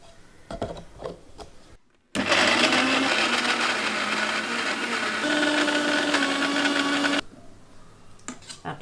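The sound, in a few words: mixer grinder grinding jackfruit seed chutney with coconut and tamarind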